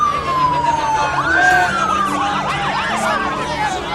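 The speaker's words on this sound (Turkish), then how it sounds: "Birçok ambulans geldi" Wailing sirens rise and fall continuously, with several overlapping tones from more than one ambulance arriving at an explosion scene, passing close by amid steady traffic noise.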